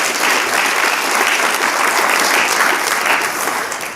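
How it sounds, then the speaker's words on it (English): Audience applause at a symposium talk fills the room, a steady, loud wash of clapping that holds evenly throughout and fades slightly at the end. "That is where everyone claps"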